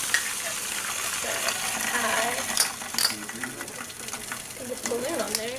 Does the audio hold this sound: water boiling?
yes